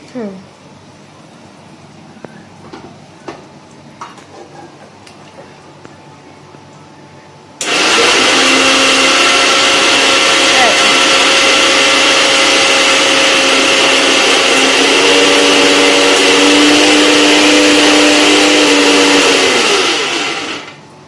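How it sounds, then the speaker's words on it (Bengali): A mixer grinder whirs loudly and steadily for about twelve seconds, blending mustard paste with a little water, after quiet kitchen clatter, then winds down at the end. "একটুখানি জল দিলাম সামান্য, দিয়ে এই মিক্সিটাকে এই বাটি এইটা দিয়েই আর একটু ঘুরিয়ে নিচ্ছি"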